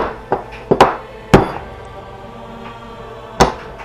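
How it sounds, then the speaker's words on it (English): A knife cuts and chips sections off a wax candle for a fire-starting disk, giving a few sharp, close knocking chops spaced apart, with quieter scraping between them. "I'm going to take and cut the candle into sections here to create a smaller environment"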